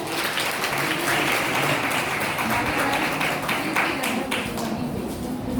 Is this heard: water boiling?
no